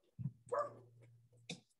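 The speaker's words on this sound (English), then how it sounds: "My dog is barking." A dog barks close by outdoors: one short bark, then a longer whining bark with a drawn-out tail, and a final sharp yip, each clear against a quiet background.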